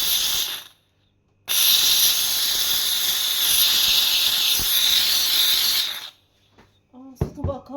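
A kitchen steam appliance hisses loudly in a strong steady jet, stopping briefly early, then bursting back for several seconds before cutting off, followed by a voice speaking.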